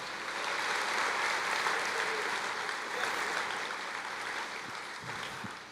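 A church congregation applauds in praise, a broad, sustained roar of clapping that fills the room, loud at first and easing slightly toward the end.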